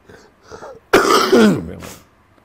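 Soft throat noises lead into one loud, harsh cough up close, followed by a short raspy tail and a brief second burst.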